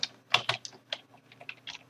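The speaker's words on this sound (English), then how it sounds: "And so I can keep on typing" Computer keyboard typing taps out in quick, irregular clicks close to the listener, a steady run of keystrokes with no voices over it.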